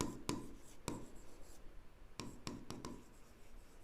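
Pen on paper in a handwritten accountancy ledger entry: quiet, close scratching strokes with several sharp, distinct ticks spaced irregularly, no voices.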